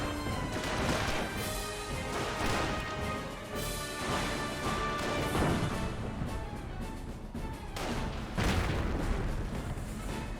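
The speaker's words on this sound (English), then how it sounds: "Oh, good mortar hit there." Dense battlefield din from Company of Heroes 1, Panzer Elite against US forces, with a mortar round striking amid continuous booms, crashes and thudding impacts; loud, busy and layered with no clear gaps.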